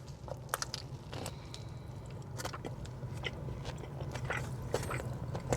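Close, quiet chewing and crunching of a Five Guys burger with crispy bacon and crunchy jalapenos, irregular soft bites and mouth sounds over a low background hum.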